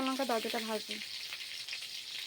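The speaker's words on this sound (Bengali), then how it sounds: "এদিকে আমি ভাজা করছি" Soft, continuous sizzling of food frying in a pan, quiet and steady, with a short burst of speech at the start.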